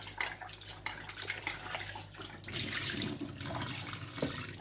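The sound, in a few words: cold tap water running while washing ilisha fish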